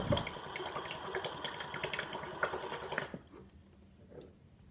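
A water flosser jet sprays water in a strong hissing gush that runs for about three seconds, then cuts off, leaving only faint trickling and bubbling.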